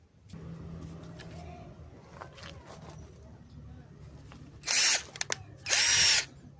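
A 12-volt Ecosen cordless drill with an 8 mm bit whirs in two loud bursts near the end, each about half a second, in drilling mode at speed 2, after a stretch of quieter talking and handling noise.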